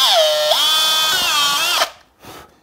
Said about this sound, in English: I'm going to be using a 2mm pilot drill for this, and that will go in those awl marks